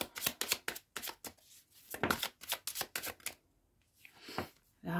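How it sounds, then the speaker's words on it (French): Tarot cards being shuffled by hand, a rapid series of close, crisp riffling bursts and flicks, pausing briefly before a final few shuffles. "je mélange les cartes tranquillement"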